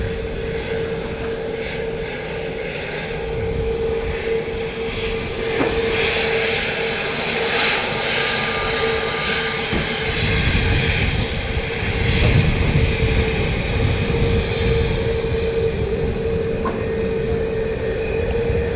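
An Aer Lingus A320neo airliner lands at Dublin Airport in gusty wind. Its engines keep up a steady, loud roar with a sustained whine, and wind buffets the open-air setting without any talk.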